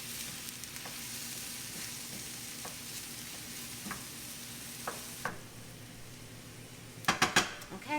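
Shrimp sizzle quietly and steadily in a hot pan for a bayou casserole, with a few soft clicks of stirring and a short cluster of utensil taps near the end.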